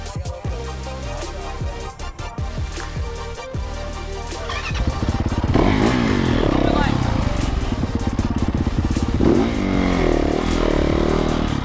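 Dirt bike motorcycle engine revving loudly and continuously, rising in intensity partway through, with the rider's voice talking over it at a night run during a 24-hour off-road endurance race.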